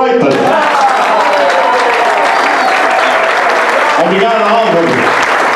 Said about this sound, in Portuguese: uma grande salva de palmas, Álvaro Freitas.